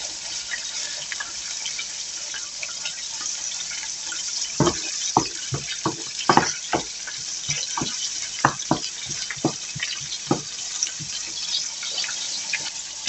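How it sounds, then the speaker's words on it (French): Homemade hamburger steaks frying in a pan, with scattered sharp pops and crackles of spitting fat over a steady soft sizzle, fairly close and without talk. "Ou ça pétouille, ça pétouille."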